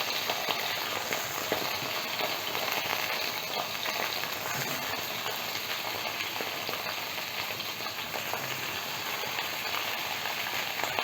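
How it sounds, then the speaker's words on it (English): Green brinjal pieces fry in hot oil for a methi sabzi over a low flame, giving a steady, dense sizzle that stays loud and even throughout with no talking. "The oil is hot. I'm going to add the brinjal."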